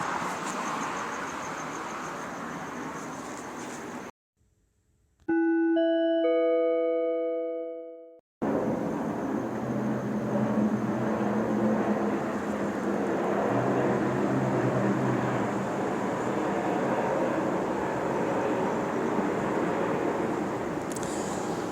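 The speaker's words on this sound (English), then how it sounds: "That is another plane hovering over the storefront where I'm located" An airplane passes over a storefront at night, a steady broad drone heard alone without talk, briefly broken by a short gap and a clear chiming tone before the engine wash resumes.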